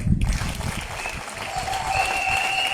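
Supporters at a political gathering applauding, a steady burst of close clapping that carries on evenly throughout, with voices faint beneath it.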